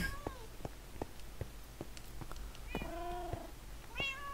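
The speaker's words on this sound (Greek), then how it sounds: "Έχουμε και τις γάτες που γουργουρίζουν όλη την ώρα." Cats in the Minecraft video game meow in a string of short, bright calls spread across a few seconds, with a quieter game background underneath.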